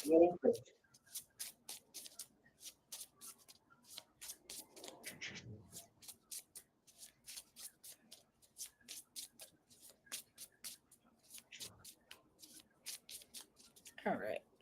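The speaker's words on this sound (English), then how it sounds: "drop some cards" Tarot cards dropped, scattered and then shuffled by hand, a long run of quick crisp riffles and flicks close by, with brief voice sounds at the start, middle and end.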